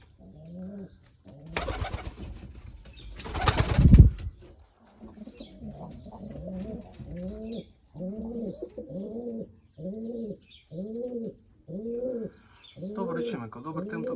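Pigeons coo in repeated, rhythmic low bursts, preceded by a loud flurry of wing flapping and rustling nearby, with a few faint chirps.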